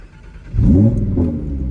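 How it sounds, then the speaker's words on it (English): A Lamborghini engine fires up with a sudden loud burst and climbs into a rising rev, then settles into a strong steady rumble close by, with no talking. "So let's give it a start."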